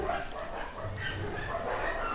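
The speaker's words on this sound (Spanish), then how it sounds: "ya empezaron a ladrar los demás." Several dogs bark in the background over the sounds of an arcade fighting game, their yaps overlapping and continuing steadily under the game audio.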